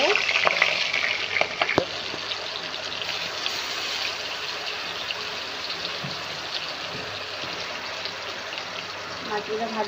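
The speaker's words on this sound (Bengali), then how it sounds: "মাছগুলো দিয়ে দেবো তেলে।" Pieces of turmeric- and salt-rubbed katla fish sizzle and crackle steadily in hot oil in a kadai, with a dense, even frying hiss and occasional sharp pops throughout.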